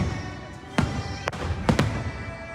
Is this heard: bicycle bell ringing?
no